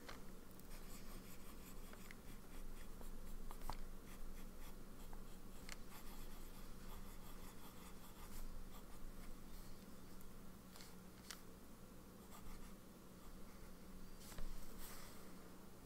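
A TWSBI fountain pen with a medium nib, inked in Prussian blue, scratches steadily across paper in close, continuous strokes with faint ticks where the nib lifts and lands.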